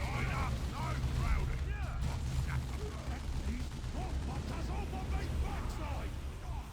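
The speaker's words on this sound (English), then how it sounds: "Orcs are firing on us!" Gunfire from orcs in the real-time strategy game Dawn of War II: a continuous rattle of rapid shots and mechanical clatter mixed with game effects, with voices talking over the battle throughout.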